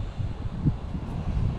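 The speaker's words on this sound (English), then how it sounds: "Really windy." Low, rumbling gusts buffet the microphone steadily throughout at a local pond, a continuous outdoor wind noise with no voices.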